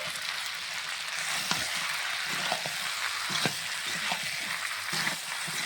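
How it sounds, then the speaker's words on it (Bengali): Fried potatoes and pointed gourd are tipped into a pan of spiced meat and sizzle loudly and steadily, with faint scrapes and stirring knocks over the constant hiss, and no voices. "এখন ভেজে রাখা আলু পটল ঢেলে"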